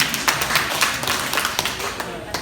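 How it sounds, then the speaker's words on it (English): An audience at a church conference in Baguio gives a brief round of applause, uneven clapping with distinct individual claps, while a voice speaks over it. "Give her the hand of applause."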